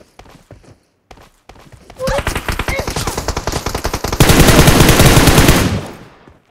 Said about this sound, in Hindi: गाइस देख लो कितनी गोली मारी इनको